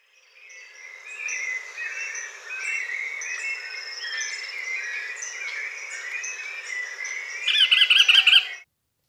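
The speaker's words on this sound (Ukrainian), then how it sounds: "ви чули спів пташок, шум лісу" Birds sing and chirp through a spring forest, with overlapping bright calls layered continuously at a steady moderate level and a quick rapid trill near the end, no talking.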